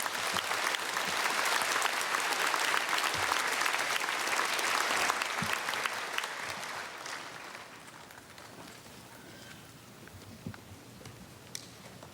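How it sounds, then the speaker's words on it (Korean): A church congregation at an early-morning autumn revival service applauds to welcome a visiting pastor, dense steady clapping filling the hall for several seconds before thinning and fading toward the end, with a few scattered claps lingering. "감사의 박수 드리며 맞이하겠습니다"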